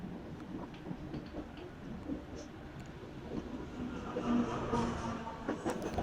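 An economy-class train passes near a rail junction, a rumbling rolling clatter with rhythmic wheel clicks that swells louder toward the end.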